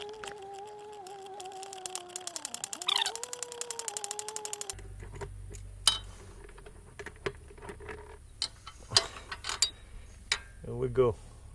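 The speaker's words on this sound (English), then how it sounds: "And to remove it, just use a ratchet and a 10mm socket." A ratchet with a 10mm socket clicks in a fast, even run of pawl ticks while loosening the starter bolts on a Honda Rancher ES350 ATV, followed by scattered metallic clinks of tools, washer and nut, close and moderately loud.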